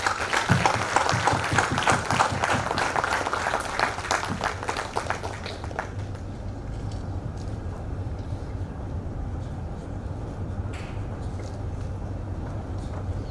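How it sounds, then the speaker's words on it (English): At a conference valedictory session, a crowd claps for a poster prize winner; the clapping is fairly loud at first, then dies away after a few seconds, leaving a low hum of room noise. "Please show your appreciation with a round of applause."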